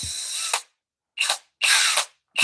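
Flex compact cordless drill in drill mode at speed 2, running in several short loud whirring bursts separated by silent pauses, close to the microphone with no voices.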